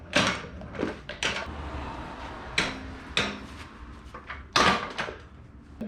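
Outboard motor lifted off a jon boat transom and set onto a stand, a string of sharp knocks and thuds of metal and wood at close range, several spaced impacts with quieter shuffling between.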